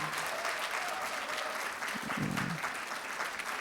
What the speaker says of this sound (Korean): 너무 차별나게 환호하시지 마시고요